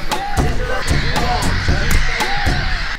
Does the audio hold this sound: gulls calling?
yes